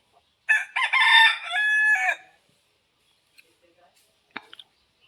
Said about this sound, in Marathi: कोंबड्या बघा खाई जाऊन बसल्यात.